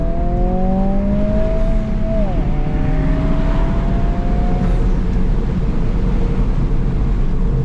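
A Honda Civic Si engine (250 hp) drones loudly under heavy road and wind noise, its pitch rising steadily as it revs and accelerates.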